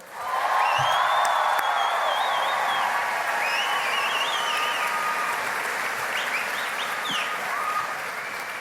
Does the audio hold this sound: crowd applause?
yes